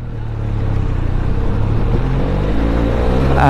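A 2021 Benelli Leoncino 500 motorcycle engine in third gear hums steadily up close, a low rumbling drone that rises slightly in pitch toward the end.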